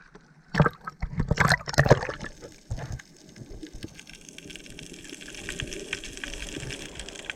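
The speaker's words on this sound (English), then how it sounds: "That's the sound of a healthy, living reef." A healthy living coral reef heard underwater in an ancient volcanic lagoon in the Tuamotus: sloshing water and splashes up front, then a dense bed of fine crackling and popping that keeps going in the background.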